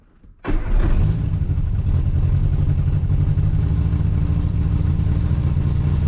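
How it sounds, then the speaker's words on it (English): A car engine idles high after brake servo work, starting abruptly and then holding a steady, loud, low rumble with no voices over it. "That idle is definitely a lot higher than it used to be."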